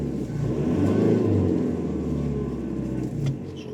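A car engine accelerates and revs, a loud mid-pitched rumble rising to a peak about a second in and then holding steady and easing off, close by with no talk.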